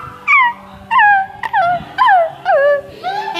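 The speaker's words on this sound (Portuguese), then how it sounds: "Meu cachorro tá aqui, né?" A new pet dog whimpers and whines in a run of six rising-then-falling cries, each about a third of a second long, loud and close with brief pauses between them, and no talking over them.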